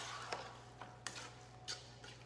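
Turkey chili ingredients being mixed inside a pressure cooker pot, with several sharp spoon scrapes and knocks against the metal at an uneven pace over a low steady hum, fairly quiet and with no speech.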